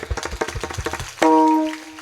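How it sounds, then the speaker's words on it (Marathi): At a devotional kirtan, an audience claps for the singers in a quick, even rhythm of sharp hand strikes, then a sustained musical tone rings out as the clapping stops. "एक टाळी गायक मंडळी करता वाजवा"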